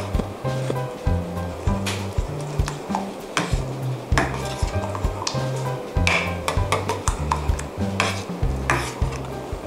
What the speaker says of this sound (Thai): เดี๋ยวเราจะใส่มิโซะลงไปค่ะ คนให้มิโซะละลายเลย